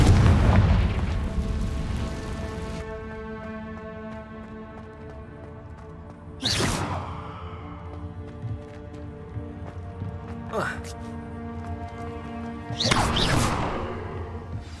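Loud booming blasts of a Confringo fire spell in Hogwarts Legacy, several bursts spaced seconds apart over a low tonal game score.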